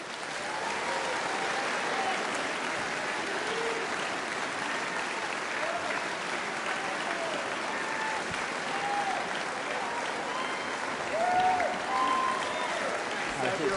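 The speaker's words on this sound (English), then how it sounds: "please give a very large round of applause for the Right Honourable Rishi Sunak MP" An audience applauds Conservative leadership contender Rishi Sunak at a Tory hustings in Exeter, a steady wash of clapping from a large indoor crowd that holds an even level throughout with faint voices underneath.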